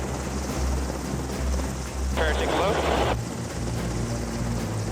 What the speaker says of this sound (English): The helicopter was super stable, and it was as advertised.